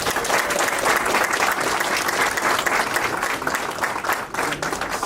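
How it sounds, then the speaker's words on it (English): An audience claps in sustained, dense applause after a Middle Eastern dabka dance and music performance, a steady wash of many hands with no break. "Let's give them a round of applause."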